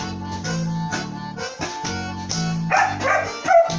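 A dog barks repeatedly in quick, close bursts, loud and steady, then breaks into higher yelps and whimpering toward the end.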